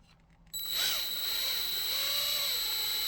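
A steady high-pitched whine kicks in after a brief quiet moment and holds, with a wavering grinding tone underneath, as a power drill drills out rivets on a 2019 Ford F-350 single cab back window.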